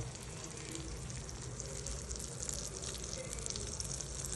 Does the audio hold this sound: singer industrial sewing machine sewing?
no